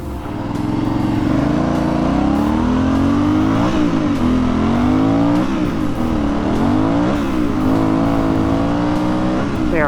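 An Aprilia Shiver 900 motorcycle pulls onto a back freeway at full throttle, its loud close engine note rising in pitch through several gear changes across the whole stretch, with no talking.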